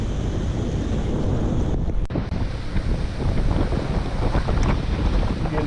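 A boat heads out from Miami toward the Bahamas at sea, with a constant heavy roar of wind buffeting the microphone over rushing water and waves, plus one sharp knock partway through.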